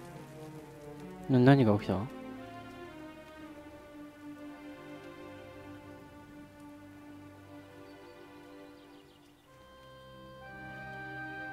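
Rain in Dragon Quest XI falls as a soft, steady patter under sustained game music, with a brief loud spoken exclamation near the start.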